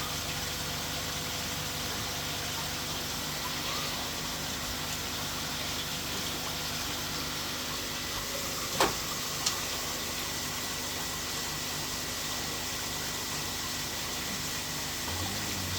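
A water pump runs steadily with a low continuous hum and rushing water in a secondary tank installed for a Bakki shower, with a couple of brief clicks partway through and no talking.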